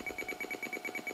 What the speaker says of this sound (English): This disk drive, you can hear it start to whine, of higher pitch whine